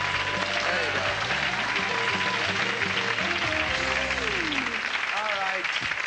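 A studio audience claps loudly and continuously at a 1996 comedy panel show, dense sustained applause with a voice talking over it and music-like tones running underneath.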